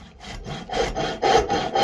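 A hand saw cuts through a piece of wood for a knife handle, with quick, steady back-and-forth rasping strokes, close and clear.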